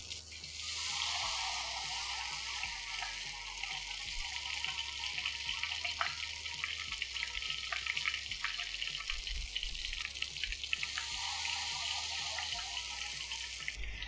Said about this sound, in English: start pouring the batter again